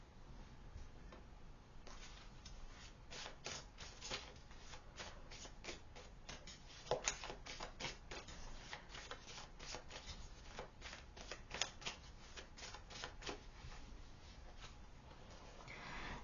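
A deck of cards is shuffled by hand for a pick-a-card reading. The shuffles come as quiet, fast riffles and flutters in repeated bursts, close and soft with no talking.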